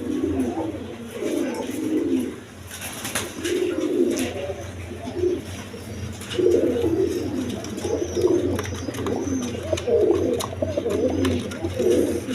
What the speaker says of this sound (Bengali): ইন্ডিয়ান কালদম কবুতর দেখেন, দেখার মতো কবুতর